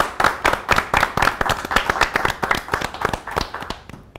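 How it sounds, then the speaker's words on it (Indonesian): Audience claps for three young singers, a rhythmic run of sharp, distinct handclaps close by that keeps a steady beat before tapering off at the end. "Kita tepuk tangan untuk Arsha, Pinky, dan Ricardo"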